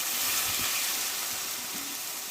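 Steady, loud sizzling as a little hot water goes into turmeric, coriander and cumin powder frying in a pan for a ridge gourd and moong dal dish, with faint stirring clinks and no talk.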